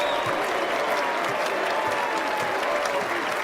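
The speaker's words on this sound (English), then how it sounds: "the crowd applauding the gesture by both teams" Basketball arena crowd applauding both teams during an NBA tribute to Kobe Bryant, a steady, dense wash of clapping from a large audience throughout, with no voices on top.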